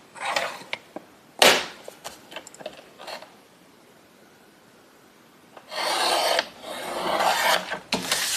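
A Creative Memories paper trimmer slices paper from corner to corner, with a few sharp scratchy strokes up front and then two longer, steady rasping cuts, close and clear against quiet.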